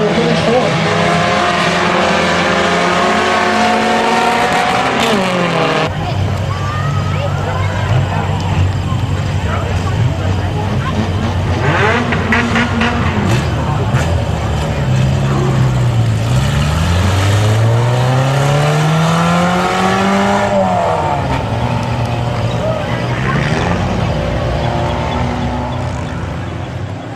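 Race cars roar around a speedway oval during a heat race, engines loud and close with rising and falling pitch as cars pass and sweep through the turns, a track announcer talking over the steady engine din throughout.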